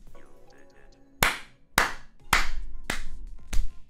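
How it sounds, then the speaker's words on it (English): Five sharp, loud hand claps at close range, spaced roughly half a second apart, each a crisp smack over faint background sound from a physics puzzle game. "That's the sound of me clapping this fucking game"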